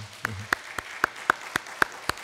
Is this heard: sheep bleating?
no